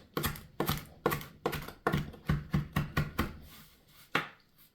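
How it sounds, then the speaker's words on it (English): A knife chops parsley on a cutting board in about a dozen crisp, close knocks at a steady, slightly uneven rhythm, each hit sharp and distinct with nothing else heard. "so it makes it easier for me to chop it with my knife"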